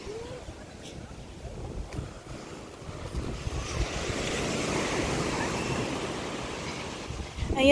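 Surf breaking on a Hawaii beach, with wind buffeting the microphone, makes a steady rushing wash that swells toward the end, heard close and continuous under faint background sounds.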